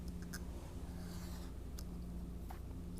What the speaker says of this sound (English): I'm gonna cut both of them at the same time.